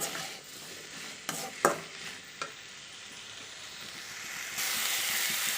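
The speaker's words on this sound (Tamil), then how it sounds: "இந்த காயை வந்து நல்லா எண்ணெயிலே வதக்கிக்கலாம்" Vegetables such as okra sautéing in oil for sambar, with a steady close sizzle and a few sharp scraping strokes of a spoon stirring the pan, no talking.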